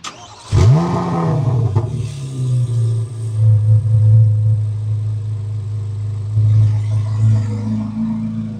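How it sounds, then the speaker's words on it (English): A 2026 Corvette C8 Z06 V8 engine fires up with a quick bark, then settles into a deep, steady, rumbling idle close by, with slight fluctuations in pitch. "I'm gonna have to let it idle for a little bit before I'm gonna rev it up."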